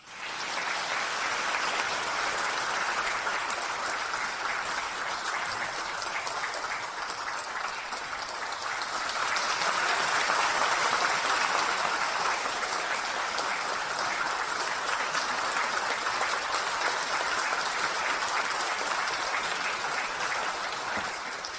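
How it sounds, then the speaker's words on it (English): An audience applauds warmly to welcome Khenpo Sodargye to a lecture, steady dense clapping sustained for about twenty seconds with a brief swell in the middle, no voices over it. "let us give a warm round of applause to welcome Khenpo Sodargye to give us his lecture."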